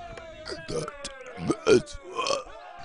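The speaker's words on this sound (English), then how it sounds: "save your burps, save your burps" A cartoon burp amid animated comedy dialogue, with voices talking around it and a loud, drawn-out belching sound standing out near the middle.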